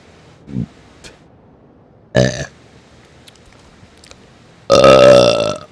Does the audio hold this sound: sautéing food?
no